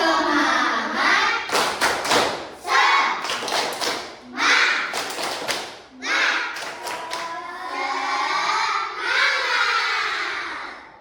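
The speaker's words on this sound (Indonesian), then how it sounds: "Ayo kita tepuk semangat terlebih dahulu" A classroom of pupils does a rhythmic spirit clap, sharp bursts of clapping in short patterned groups with a teacher's voice and children's voices between the beats.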